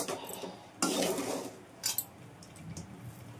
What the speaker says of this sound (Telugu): దించే ముందు కొత్తిమీర వేసుకొని 1 నిమిషం పాటు కలుపుకోవాలి